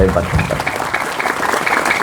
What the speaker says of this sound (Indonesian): Sekali lagi tepuk tangan untuk Babul Ulum ini.